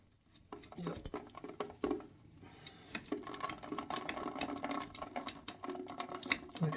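Water runs from a bathroom tap during a repair, a fluctuating splashing stream with irregular patter and clatter that grows busier over several seconds, heard close up.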